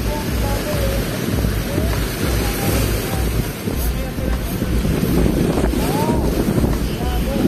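Strong waves in Manila Bay churn and crash continuously under heavy wind buffeting, with a boat-like rumble and a voice speaking faintly through the noise.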